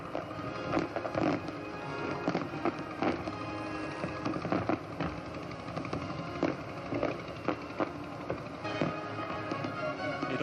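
Distant fireworks over a harbour pop and crackle in irregular bursts over a low, steady background murmur of a crowd, at the Royal Australian Navy's 75th Anniversary Review in 1986.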